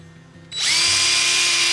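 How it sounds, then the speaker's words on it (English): A power drill with a fine tip bores holes in a garden hose for a bog garden: a short quiet lead-in, then the motor whines up sharply and holds a loud, steady high-pitched spin. "So I'm just going to use my drill, fine tip on the drill, and just take the drill and drill holes"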